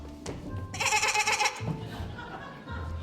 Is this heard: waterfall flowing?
no